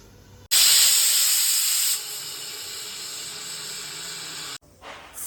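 A pressure cooker on the stove vents steam in a loud, sharp hiss that bursts in suddenly, drops to a slightly softer steady rush for a few seconds, then cuts off abruptly, close and alone.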